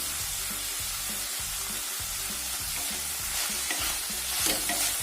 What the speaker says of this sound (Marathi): परतवून घ्यायचं व्यवस्थित असं